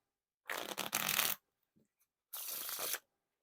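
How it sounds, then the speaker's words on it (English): Two quick bursts of Coca-Cola playing cards being riffle shuffled, a crisp fluttering rattle, with a soft tap between them. "Now time for the riffle shuffle or bridge shuffle."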